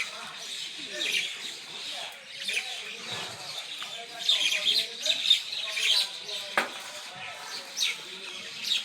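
A duck lying injured in water with one leg missing, giving repeated thin chirping calls at close range, with soft talking in between.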